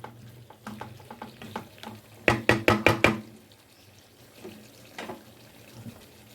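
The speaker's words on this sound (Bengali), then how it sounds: "আমি দু থেকে তিন মিনিট আলুটাকেও মশলার সাথে একটু কষিয়ে নেবো" Potatoes sautéed with spices in a pan for Kashmiri aloo dum, with quiet sizzling and a quick burst of five sharp spoon scrapes and clanks midway, then softer stirring.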